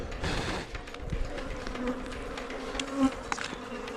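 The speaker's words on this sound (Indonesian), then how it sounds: "Bunyi dengungan yang keras ini berasal dari ribuan lebah." Dense, loud buzzing of thousands of bees swarming around their hive, heard close up as a continuous humming drone with individual insects whirring past.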